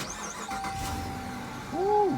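A 2019 Chrysler 300S V8 sits outside while a low mechanical hum carries on and a tonal whine rises near the end as the engine cranks and catches, fairly close.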